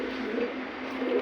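A pigeon kept for trade coos softly in a low, rounded, continuous murmur, faint and close, with no other voices present.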